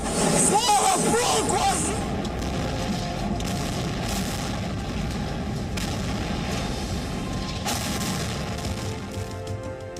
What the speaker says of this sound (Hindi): बम बारूद के धमाके थम ही नहीं रहे